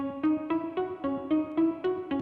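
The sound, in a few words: synth sound from Serum in the bridge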